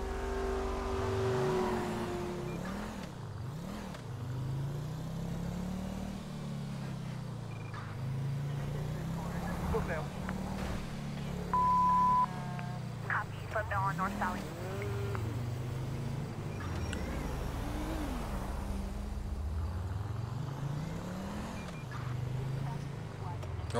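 A Ferrari in GTA 5 revs and accelerates repeatedly, engine pitch rising and falling in sweeping waves over about twenty seconds, close and steady, with other game sounds and voices mixed in.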